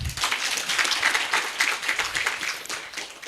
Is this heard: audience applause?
yes